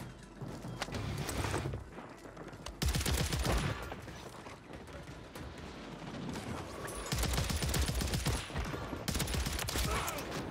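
An assault rifle in Call of Duty: Warzone fires in rapid bursts of shots with short pauses between volleys. The fire is loud and close, set over a rumbling game backdrop.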